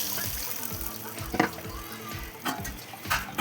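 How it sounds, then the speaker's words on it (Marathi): Water splashes and trickles in short bursts as it is poured into a pot of rice for masale bhat, with faint voices in the background. "नंतर त्यामध्ये आपण पाणी घालूया"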